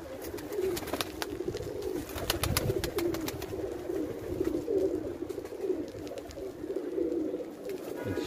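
Highflyer pigeons coo in a low, rolling murmur that keeps repeating throughout, with scattered sharp clicks and rustles over a steady close-range flock.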